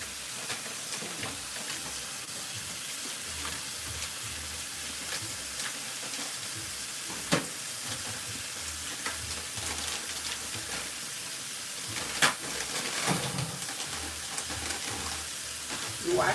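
Food being grilled on a pan for a taco salad, a steady broad sizzling hiss held at moderate volume throughout, with faint crackles and a few sharper pops near the pan.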